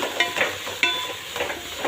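Ingredients for a parts curry sauté in a hot pan, a steady close sizzle with scraping stirring strokes and a few sharp spoon knocks, no voices over it.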